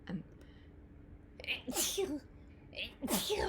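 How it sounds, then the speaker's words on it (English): A single sharp sneeze bursts out nearby, followed by a second explosive sneeze a moment later, with a brief sniffle between them. "I hate sneezing."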